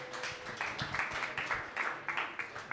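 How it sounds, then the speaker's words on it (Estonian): An audience at a Tartu bicycle marathon gravel-race presentation claps in a scattered, moderate patter that rises and falls, with no voices over it. "aitäh talle! Aplaus!"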